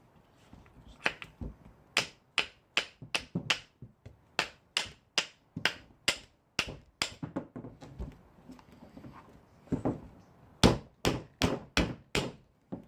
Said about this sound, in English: Take a ball peen here.